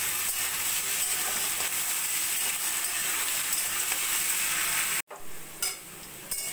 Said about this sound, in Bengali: এবার একটু আমি হালকা 2-3 মিনিট মতো ভাজা ভাজা করে নেব